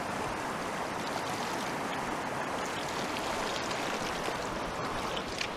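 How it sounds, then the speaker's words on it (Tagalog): Tamarind pods being rinsed in water outdoors on a mountainside, giving a steady, continuous splashing and trickling wash at close range with no talk. "Hugasan ko lang tong sampalok."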